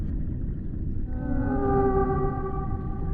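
Humpback whale or orca song in cold North Atlantic waters: long, tonal moaning calls with rising harmonic sweeps over a steady low rumble, sustained and fairly loud, no voices.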